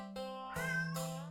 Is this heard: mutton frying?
no